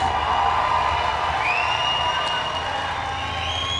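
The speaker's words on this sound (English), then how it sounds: "And you heard the crowd response there, Chris." A crowd cheering and whooping at a fight-card announcement of the opponent entering the blue corner, a sustained dense roar of voices with a few whistles, heard from amid the arena.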